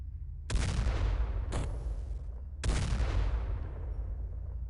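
Gunfire in the video game XCOM, played with The Xcom Files mod: three loud, close booming shots, each cutting in sharply and decaying in a long echoing tail.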